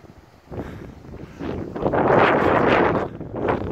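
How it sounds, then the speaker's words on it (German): Wind buffets a microphone during an outdoor walk, rising from light rustling into loud, sustained roaring gusts close to the mic, with no speech. "warum wird das jetzt auf einmal so windig"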